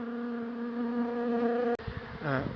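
A close, steady buzzing hum of bees during a beehive relocation, sustained for most of the clip before an abrupt cutoff and a brief burst of handling noise.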